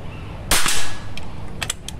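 A single sharp .22 calibre PCP air rifle shot cracks out, followed moments later by a few faint, distant ticks of pellets striking targets at about 25 metres.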